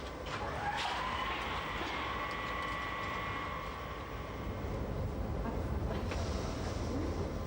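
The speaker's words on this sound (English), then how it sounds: "will be pulled by one of the modern 600 series electric locomotives, built by SLM and Brown Boveri in the 1970s and 80s" Rhaetian Railway train hauled by a 600 series electric locomotive built by SLM and Brown Boveri, fitted with vacuum brakes, on the Davos line; steady close rumble with a sustained brake or compressor whine and hiss.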